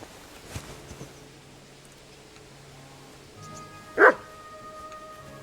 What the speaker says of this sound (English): Oh, that's it. Barking.